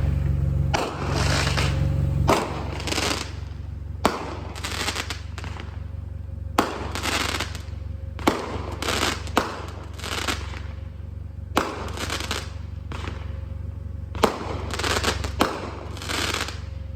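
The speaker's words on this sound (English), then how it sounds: "cool little fireworks show at least" New Year's Eve fireworks going off in repeated bursts of loud crackling pops and booms, clustered in rapid volleys with short gaps between them, heard outdoors with no talking.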